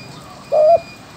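A single short spotted dove coo, one clear note standing out over faint background hiss, fairly close and with no other voices.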